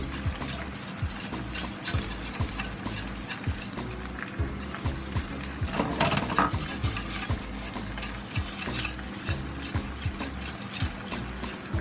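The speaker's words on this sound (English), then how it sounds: "So now I'm adding my flour slowly, and what I'm trying to do, make it form a ball." Flour being stirred into melted butter in a pan to make a roux for jerk beef lasagne, heard as steady, rhythmic scraping and tapping strokes, close and fairly loud, with no voices.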